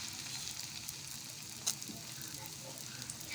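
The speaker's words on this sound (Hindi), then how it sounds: "ऑयल अच्छे से गर्म हो गया है, मैं अपनी डबल रोटी के इस पर रखूँगी सैंडविच को" Faint, steady sizzle of a potato sandwich on bread frying in hot oil on a tawa, a soft continuous crackle with one brief sharp pop.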